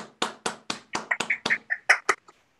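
A handful of people clap in a loose, uneven burst as a School of Code demo day opens: about a dozen distinct claps that thin out and stop within a few seconds, fairly close, with no talk over them.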